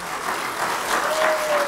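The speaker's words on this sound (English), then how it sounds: "Could you stand up and so we can give you applause?" A church congregation applauds a visiting family, steady broadband clapping filling the room at moderate level throughout, with a faint tone sliding in near the end.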